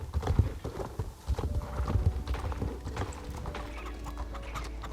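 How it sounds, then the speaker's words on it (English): Horse hooves clip-clopping in the Star Stable Online video game, a steady rhythmic trot of sharp hoof knocks with a faint neigh, close and clear with little else. "That's quite the horse you got there."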